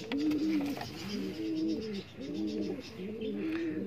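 Teddy pigeon chicks coo in repeated soft, throaty phrases close by, about four rounded bursts with short gaps, and faint chirps drift in the background.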